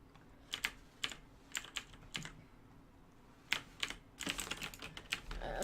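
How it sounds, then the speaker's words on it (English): Clicks and clacks of a computer keyboard with the spacebar pressed repeatedly during CS:GO play, an irregular run of taps with a pause in the middle and a busier flurry toward the end, close and fairly quiet. "I'm just holding down the spacebar"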